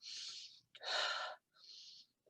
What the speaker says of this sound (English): This is stress breathing, right?